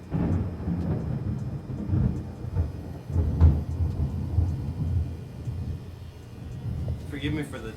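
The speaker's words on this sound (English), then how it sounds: "Forgive me for the thunder, there is a storm happening right now." Low rolling thunder from a storm outside rumbles steadily through a tattooing session, with brief louder swells and some speech over it.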